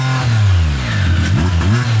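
A three-cylinder Rotax engine with a paddle-shift automatic gearbox revs up under acceleration, a loud, close, throaty drone that rises and dips in pitch through a quick shift, with no talking.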